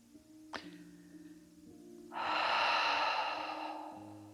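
A person takes a slow breath in and then exhales long and audibly through the mouth during a relaxing pelvic floor exercise, with a soft airy whoosh that swells and fades, close and alone.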